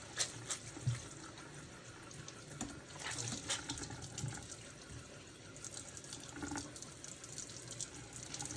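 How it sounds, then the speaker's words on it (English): Water runs steadily from a kitchen tap while dish towels are rinsed under it, a soft continuous splashing stream with small fluctuations, faint and fairly distant, with no voices. "Let me rinse my dish towels."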